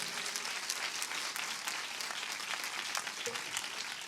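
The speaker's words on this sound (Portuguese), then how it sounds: "Dê uma salva de palmas a Jesus de gratidão" A church congregation applauds during a worship service, a steady wash of many hands clapping together, fairly faint and even throughout, with no voice over it.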